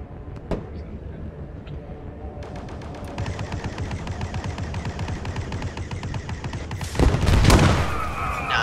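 Gunfire in the Squad military shooter game: a single early shot, then sustained rapid automatic fire for several seconds ending in a louder, heavier blast, with voices talking underneath.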